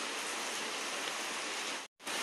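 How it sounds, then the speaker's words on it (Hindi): Heavy rain pours steadily outside a house, a dense, even hiss of drops that holds at a constant loud level before a brief dropout near the end. "बाहर बहुत भयंकर हो रही है बारिश और बाहर जा नहीं सकते हैं।"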